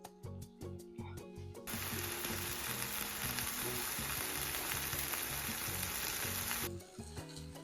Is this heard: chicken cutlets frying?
yes